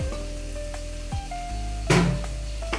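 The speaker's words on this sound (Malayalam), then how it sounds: "ഈ സവാള ഇടുവാണ്. സവാള ഇടും, ഇത് 4 സവാള എടുത്ത് ഞാൻ, ചെറിയ 4 സവാളയാണ്." Small onions dropped into a hot pan for a chicken stew sizzle loudly, a steady frying hiss with brief bursts of stirring, close and alone.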